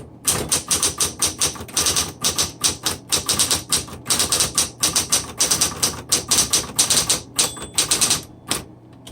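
A 1960s Smith Corona Coronet Electric 10 typewriter with manual return types in a steady, loud run of sharp key strikes, with only brief pauses between bursts.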